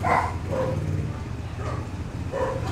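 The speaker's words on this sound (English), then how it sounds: "That damn dog. Fucker barks and barks and barks and barks." A dog barking somewhere down the street, giving a few muffled, distant barks spaced across the moment against a steady low background rumble.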